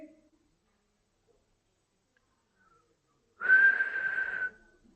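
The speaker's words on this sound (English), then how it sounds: "I am not able to whistle so well after speaking so long" A single whistled note held for about a second, a clear sustained tone rising out of near silence in a quiet room, with nothing else around it.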